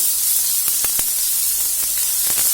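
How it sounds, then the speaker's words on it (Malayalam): Finely chopped ginger sautéing in a pan, a steady loud sizzle with scattered crackles and pops throughout, no talking. "ഇഞ്ചി ചെറുതായി അരിഞ്ഞത്, ജസ്റ്റ് സോട്ട് ചെയ്യാം"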